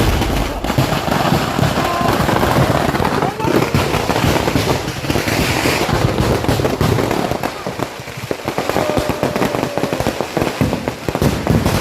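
Fireworks at a temple festival, including palm-leaf firecrackers, make a dense, loud, continuous rattle of rapid cracks and bangs that barely lets up, with voices faintly mixed in.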